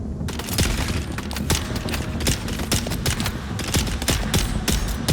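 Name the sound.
gunfire in Dune: Awakening video game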